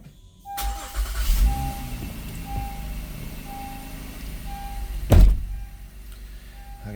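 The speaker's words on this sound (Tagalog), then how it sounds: "pa-start natin sa sasakyan" A car engine cranks and starts in a garage during a DIY oil change, then idles with a faint repeating dashboard chime, followed by a loud thump near the end.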